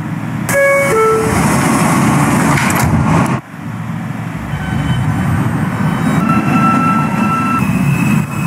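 An R160A N subway train bound for Ditmars Boulevard runs in the Roblox video game, giving a steady loud rumble with a few brief tonal chimes early on and a short dip partway through.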